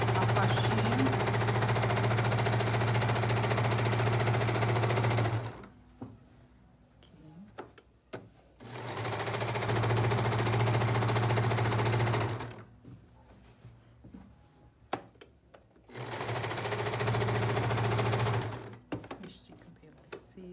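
A sewing machine stitches viscose fabric in three loud sustained runs of rapid mechanical whirring, split by quiet pauses with small clicks and handling noises, close up.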